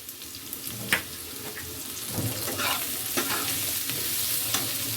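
Pumpkin and eggplant pieces with fish head fry in a pan while a spoon stirs them, a continuous near sizzle broken by scraping strokes and light clinks, with no talking.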